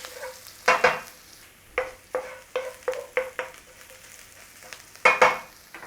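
Garlic and ginger frying in a pan, each stir bringing a sharp burst of sizzle and a spoon tapping metal, roughly a dozen close strokes with no talk.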